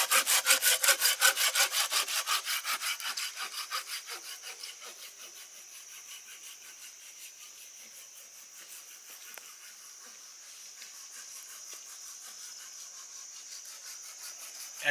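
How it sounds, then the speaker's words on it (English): A Silky hand saw bucks firewood to length outdoors in a forest, with rapid, steady back-and-forth strokes that start loud and regular, then soften into a quieter, continuing rasp. "we decided to use the silky saw to get all of our firewood bucked to length"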